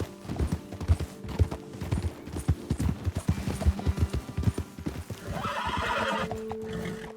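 In the video game Red Dead Redemption 2, steady clip-clop of horse hooves at a trot, then a horse whinnies loudly near the end over a low ambient rumble.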